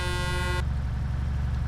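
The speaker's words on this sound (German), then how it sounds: "Aber die Hupen hätten sie schon ändern können." A car horn in the Altis Life video game gives a steady, loud tonal honk for about half a second and then cuts off, leaving a low engine rumble running underneath.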